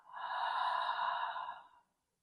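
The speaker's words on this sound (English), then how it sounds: "let's take a deep breath in and exhale" A single slow, deep breath, drawn in and then let out in a long airy exhale, close and steady before trailing into silence, in a calm guided-meditation setting.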